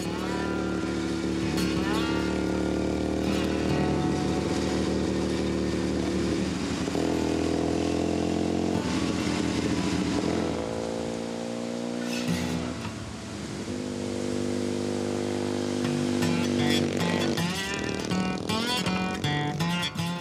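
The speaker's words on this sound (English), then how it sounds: "Anytime he can, Olivier, a true enthusiast, does the trip on his motorcycle" A motorcycle climbs the road up Mauna Kea in Hawaii, its engine note rising and falling through gear changes. Loud, close and continuous, with a brief dip in the middle before it pulls again.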